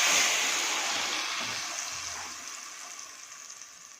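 Smashed garlic-chilli garagat mixture drops into a hot pan for a Shravan taro-leaf curry, a loud burst of sizzle that fades steadily over four seconds, nearby and without voices.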